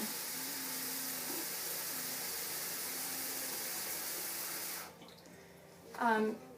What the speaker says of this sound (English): Now I'm going to put some clean water in my bowl